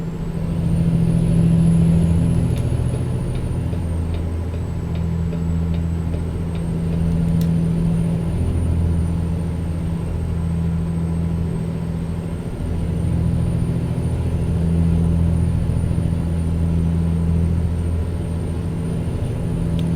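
A truck in American Truck Simulator cruises steadily, its engine a loud continuous low drone with gentle shifts in pitch over twenty seconds, plus a thin high whine running on top, with no voices.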